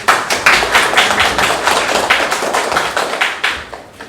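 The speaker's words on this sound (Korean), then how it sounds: "발표와 질문해주신 두 분께 다시 한번 박수 부탁드리겠습니다." An audience at a Korean academic education conference applauds after a presentation and Q&A, a dense run of close clapping with a regular pulsing rhythm that thins slightly at the end.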